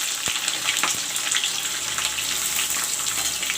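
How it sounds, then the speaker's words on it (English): Garam masala, bay leaves and chopped onions sizzle in hot oil for a home-style chicken curry, a loud, steady crackling fry with occasional sharper pops and no voices. "the oil is turned hot, so I will put in the garam masala and the bay leaves"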